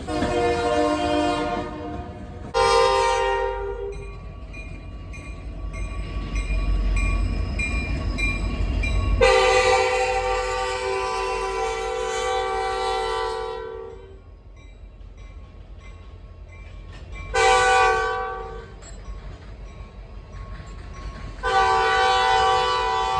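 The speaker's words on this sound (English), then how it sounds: "here's a local freight train on the Union Pacific Railroad" A Union Pacific local freight train hauling hoppers loaded with sand on an old line to a glass factory sounds repeated loud horn blasts, some long and some short, over a steady low rumble of rolling cars and no talk.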